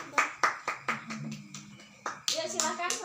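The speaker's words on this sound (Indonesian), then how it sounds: "Tepuk tangan dulu, Mbak." A small group in a classroom claps in a loose, uneven rhythm of a dozen or so sharp hand claps, close to the listener, with children's voices talking over it toward the end.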